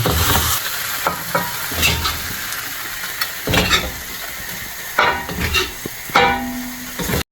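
Onion and garlic sautéing in oil in the same pan used for the meat, a loud close sizzle with busy stirring and scraping, plus a few hissing bursts.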